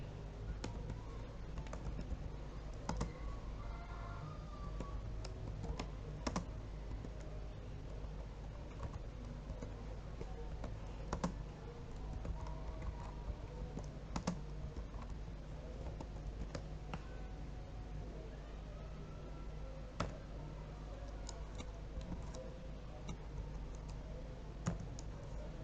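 Light, quiet typing on a computer keyboard at a PC, a steady irregular patter of soft key clicks with a few sharper taps, continuing alone throughout with no talk.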